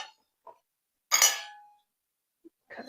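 Cutlery clinks against a plate while a piece of tender pot roast beef is cut, with one prominent ringing clink among a few small taps, close and otherwise quiet.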